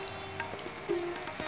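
Chopped garlic and ginger fry in hot oil for a mixed vegetable pickle, giving a soft steady sizzle with light stirring clicks, close and alone.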